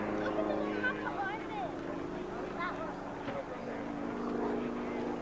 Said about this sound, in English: pulling that aircraft around, demonstrating the power and the roll